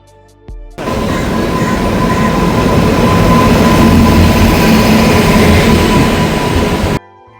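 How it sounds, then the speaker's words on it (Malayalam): At Koyilandy railway station, a train gives a loud, close, steady roar that rises suddenly, holds for about six seconds and then cuts off. "റെയിൽവേ സ്റ്റേഷനിലെത്തിയ ശേഷമുള്ളതാണിത്"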